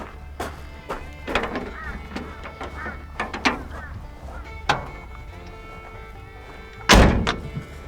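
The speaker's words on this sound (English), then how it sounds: "we'll give the test on the door, make sure it opens" Door of a Ford XH Falcon ute being tested, with a series of close thunks and latch clicks, a final heavier slam near the end, and faint background noise between the knocks.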